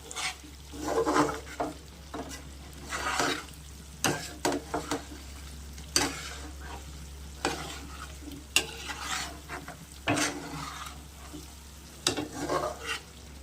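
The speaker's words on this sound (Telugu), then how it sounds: "మధ్య మధ్యలో మనం కలదిప్పుకుంటూ ఉంటే కూర అడుగంటుకోకుండా ముక్క అయితే మనకు మంచిగా ఫ్రై అయ్యిద్ది" Chicken fry curry being stirred in a pan as it cooks: repeated scraping and clinking strokes at an irregular pace over a low sizzle, close up, with no talking.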